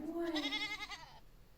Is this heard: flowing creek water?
no